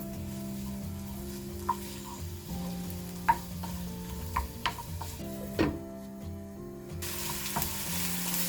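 Onion and garlic fry in a pan for a bread omelet, giving a soft, continuous sizzle with occasional scrapes and clinks of a spoon stirring against the pan.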